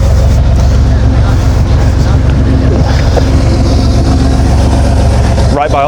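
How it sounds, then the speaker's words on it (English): Heavy truck engines rumble nearby in a loud, continuous low drone that fills the whole stretch, with a person talking over it toward the end. "Right by all this truck noise"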